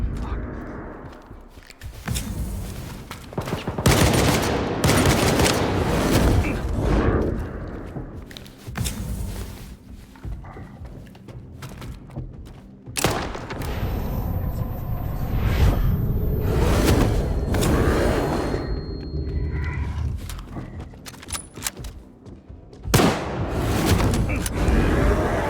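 A gunfight during the Malachite mission in Stalker 2 brings bursts of gunshots and booming impacts in uneven volleys, some close and loud, with footsteps and movement between them.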